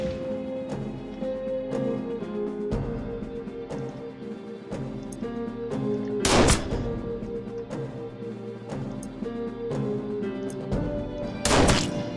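Gunshots in the game Warsaw 1944, a few sharp, loud cracks standing out over layered music and ambient tones, spaced well apart with no voices.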